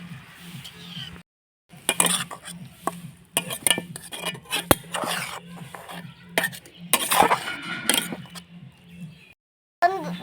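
A spoon stirs spices with salt and turmeric as they fry in oil in a pan for greens cooked with hilsa fish head. Repeated scraping and clinking strokes ride over a steady low sizzle, with brief pauses between them.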